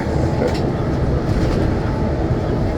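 A New York subway train car at the Church Avenue stop roars close by with a loud, continuous rumble and faint rattling.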